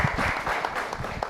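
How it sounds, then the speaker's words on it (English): Studio audience at an Inside Out recording gives a short round of applause, a steady wash of clapping lasting just over a second. "Let's give him a round of applause."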